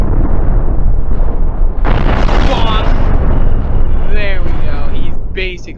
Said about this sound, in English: Oh, the nuke has struck.